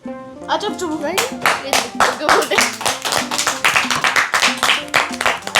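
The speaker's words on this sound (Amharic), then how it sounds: "ለራሳችሁ እስኪ አጨብጭቡ።" A group of children clap for themselves at home during a party-game challenge, giving a quick run of sharp, uneven claps over voices and a tonal background.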